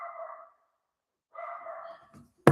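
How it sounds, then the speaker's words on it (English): A dog barks outside, heard indoors at a distance: two muffled, drawn-out barks separated by a pause, followed by a brief faint sound and a sharp click at the end. "Put AirPods in because Leonard's barking out there"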